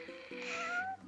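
A cat meows in Final Fantasy 15, giving one drawn-out, rising-then-falling mew, loud and close, with a soft lower tone underneath.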